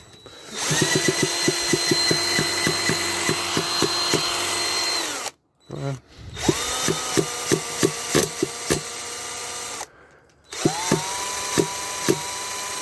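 A Kyosho Mad Force RCX Edition nitro RC monster truck engine, running rough with oil still in the motor and fuel filter, whines at a high, buzzy pitch with rhythmic sputtering pops and cuts out twice before restarting.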